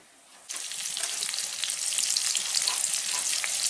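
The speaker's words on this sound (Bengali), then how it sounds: "মাছ ভাজছিলাম সেই তেলটা ছিল, ফোড়ন দিয়ে দিয়েছি আমি, পাঁচফোড়ন দিয়েছি, শুকনো লঙ্কা দিয়েছি" Panch phoron and dried red chillies hitting hot oil left over from frying fish, a loud steady sizzle that bursts in after a short pause and keeps crackling without any talk.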